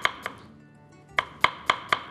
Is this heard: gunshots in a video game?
no